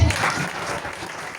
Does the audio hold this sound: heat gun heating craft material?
no